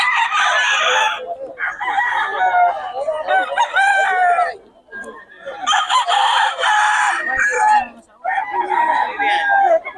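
Roosters crow repeatedly, loud and close, with clucking between the long calls and brief pauses.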